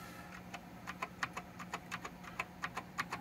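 Keys tapped on a computer keyboard connected to a budget Windows 98 SE PC build, about a dozen fairly even, distinct clicks over a quiet background hum, with no speech.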